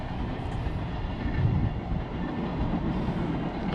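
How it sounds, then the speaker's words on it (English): A train rumbles past near a cemetery at night, a steady low roar that swells slightly mid-way and then holds, with no talking over it. "It's a train."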